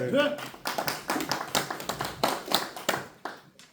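Clapping and applause at a union officer election campaign rally, a dense burst of many hands that rises, holds steady and trails off over a few seconds.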